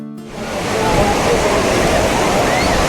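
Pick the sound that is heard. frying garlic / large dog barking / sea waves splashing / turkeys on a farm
sea waves splashing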